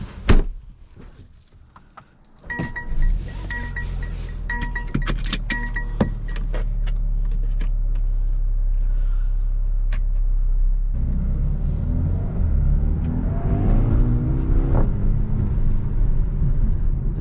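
A 2020 Mercedes-AMG CLA 35 Coupe: a door thunks shut, keys and small clicks follow, then the engine starts and settles into a steady low rumble that swells as the car pulls away.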